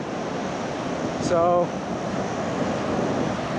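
Ocean waves washing onto a beach at a motorcycle camping spot, a steady broadband surf wash with wind over the microphone, continuous throughout; a person briefly speaks partway through.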